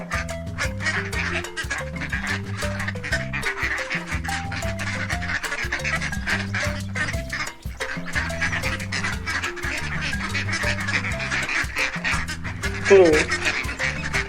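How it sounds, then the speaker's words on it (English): Duck quacking and honking over an upbeat, rhythmic music backing, the calls recurring through the track with a louder squawk near the end. "Duck."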